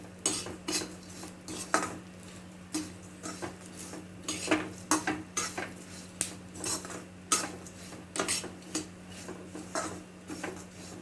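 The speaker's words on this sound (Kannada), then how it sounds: "ಈಗ ಇದೆಲ್ಲವನ್ನು ಹಾಕಿ ನಾನು ಫ್ರೈ ಮಾಡ್ತಾ ಇದ್ದೇನೆ" A utensil stirs ingredients frying in a pan, with repeated clinking and scraping strokes of metal against the pan in an irregular rhythm over a low, steady background hum.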